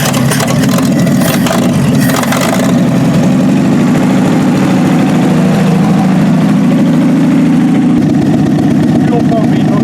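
A 1965 Chevy pickup truck engine, a barn find on a cold start, runs steadily throughout, a low rumbling idle with a rough texture, loud and close.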